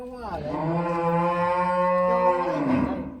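A single long, low, drawn-out bleat from a year-old billy goat, loud and close, rising then trailing off.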